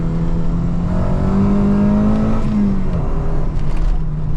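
Peugeot 309 GTI 16 engine revving above 4000 rpm, a loud, sustained close-up drone whose pitch climbs and holds, then eases back slightly toward the end.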